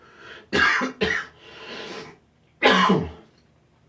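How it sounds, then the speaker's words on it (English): A person coughs three times: two quick harsh coughs close together, then a pause and one more cough, all close and fairly loud. "It's just morning cough."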